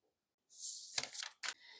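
A pen or pencil draws pattern lines for a tailored jacket's facing on paper, giving a soft scratchy stroke followed by two short, sharper scrapes, close and quiet, with no talking.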